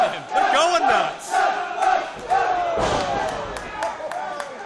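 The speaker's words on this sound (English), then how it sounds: "This crowd is behind him. They're going nuts." Wrestling crowd at an IWC show roaring and yelling in a sustained, loud wave of cheers and shouts, with a commentator talking over the noise.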